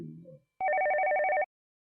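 A single burst of electronic landline telephone ringing, a warbling two-tone trill lasting about a second, close and loud after a brief low voice at the start.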